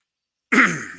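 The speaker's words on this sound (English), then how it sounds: "Sorry for the cough there, everybody." A single short cough, close and sudden, trailing off after a brief moment of silence.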